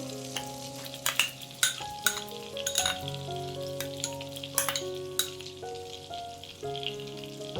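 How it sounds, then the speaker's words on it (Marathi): Ground spice paste fries in melted butter in a pan for a restaurant-style matar paneer, a continuous close sizzle punctuated by repeated clinks and scrapes of a stirring spoon against the pan. "आता हा मसाला छान बटरमध्ये फ्राय करायचा"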